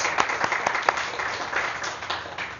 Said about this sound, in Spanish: Si pueden darle un aplausito a David.